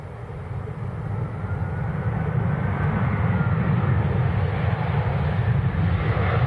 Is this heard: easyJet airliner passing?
yes